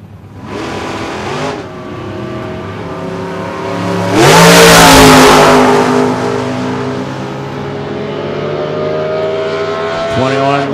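A Kenwood Corvette A-Gas drag car launches down the strip at an NHRA Heritage Series finals event, its engine roaring up through the gears, swelling loud as it passes near, then fading into a sustained distant drone.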